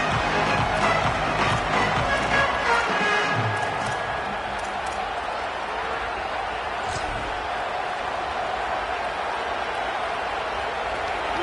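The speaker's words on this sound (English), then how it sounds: "This crowd ready to make its presence known." Stadium crowd in a video game football match, a broad roar of cheering and applause that is loud at first and then settles to a steady murmur.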